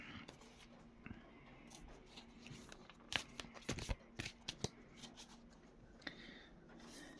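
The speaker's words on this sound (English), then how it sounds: "I'll shuffle it on camera for you" Soft papery shuffling and sliding of tarot cards, with sharper flicks and taps clustered in the middle, close and fairly quiet over a faint background hum.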